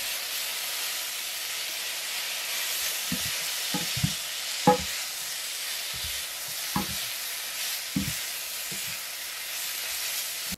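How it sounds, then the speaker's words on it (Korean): Quick stirring of ingredients in a hot wok or pan while making a breakfast dish, a steady sizzling hiss broken by irregular scraping and clattering strokes, close and fairly quiet, with no talking. "웍이나 팬 준비해 주세요. 한 접시 만들 정도로 재료들을 넣어 줄게요. 빠르게 섞어 주시고요."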